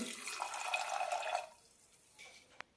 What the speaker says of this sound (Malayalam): ഏകദേശം മുക്കാൽ കപ്പ് വെള്ളം ഒഴിക്കാം